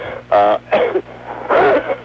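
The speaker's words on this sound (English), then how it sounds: "that was one of the greatest coughs I ever heard" A few harsh, throaty bursts, a cough-like clearing of the throat repeated three times in quick succession, close and fairly loud.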